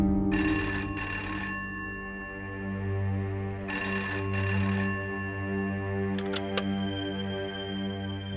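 A telephone rings in a home, two clear bursts of bell-like trilling followed by a brief electronic chirp, with no one speaking.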